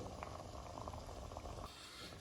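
Faint, steady bubbling of crab curry simmering in a pan, a soft continuous gurgle with small pops and no voices.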